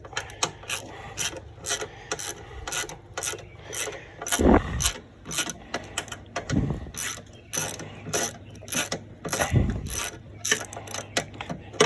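A ratchet wrench with a 13 mm socket works the bolts off the side plate of a Snapper riding mower, giving rapid, close clicking bursts with a few heavier knocks and scrapes of metal.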